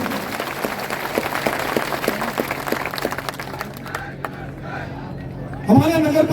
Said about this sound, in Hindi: तालियां बजा करके इनका स्वागत करें।